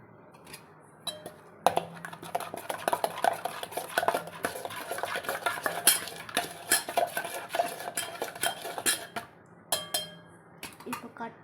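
A spoon scrapes and clinks against a pan while a paneer mixture with a little water is stirred, in irregular close metallic taps and scrapes with a few louder knocks.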